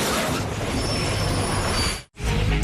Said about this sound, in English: 884 is approaching the Eschede road bridge at 200 kilometers per hour.